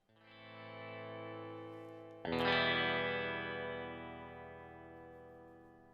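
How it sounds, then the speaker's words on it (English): A sustained electric guitar chord through a classic clean amp preset rings out with a clean, shimmering tone, then a second strum hits brighter and louder, slowly decaying with no talking. "I'm going to go for classic clean. See how that sounds."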